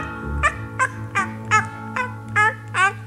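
A wild turkey gobbles in seven short, evenly spaced, warbling bursts over a low steady background.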